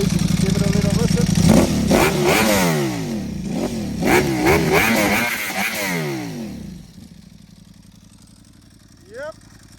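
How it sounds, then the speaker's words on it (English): A Ducati motorcycle with a dry clutch and a baffled exhaust, revved close up: repeated rising and falling throttle blips over a loud running engine, easing back to a quieter idle, with a voice briefly heard near the end. "Yep, that's the Ducati. I love that sound as well."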